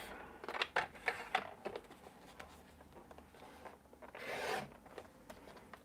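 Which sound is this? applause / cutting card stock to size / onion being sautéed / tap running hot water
cutting card stock to size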